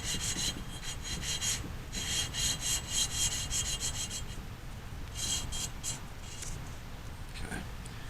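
An engine valve is lapped against its seat with lapping compound, giving a continuous gritty rubbing rasp in repeated back-and-forth bursts, close and moderately loud.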